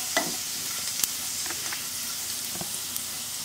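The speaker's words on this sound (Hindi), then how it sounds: "और थोड़ा सा भून लेते हैं। लहसुन और अजवाइन का फ्लेवर बहुत ही अच्छा आता है।" Garlic and carom seeds fry gently in a pan over a low flame, giving a steady soft sizzle with occasional stirring clicks and light taps.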